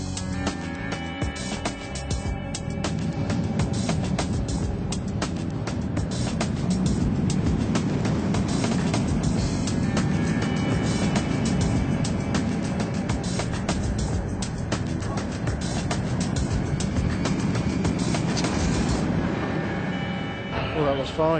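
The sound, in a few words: Flamingo Land ride train test run with plywood structure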